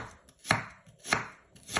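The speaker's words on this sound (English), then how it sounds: "So you can get really precise slices with this one, as the blade stock is so thin" Three crisp slicing cuts from a thin Scandi-grind BPS Finn-Lite neck knife passing through food on a board, each a short sharp chop spaced about half a second apart, close and clear with no talk.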